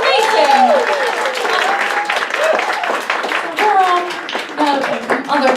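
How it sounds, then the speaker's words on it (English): Audience applause for a cosplayer at a New York cosplay cabaret, steady clapping that swells and dips throughout, with cheering and excited voices mixed in over the crowd. "one more round of applause for her"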